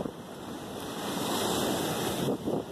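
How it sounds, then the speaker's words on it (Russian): Huge ocean waves crash and roar on an island shore as strong wind buffets the microphone, a continuous loud surge that swells toward the middle. "да, волны сегодня огромные у нас."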